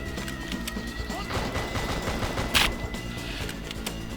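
Sniper rifle fire in the action video game Just Cause, a sharp single crack standing out over a dense, continuous bed of game noise, gunfire and ambient clatter.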